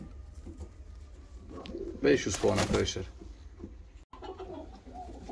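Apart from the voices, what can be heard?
show pigeons cooing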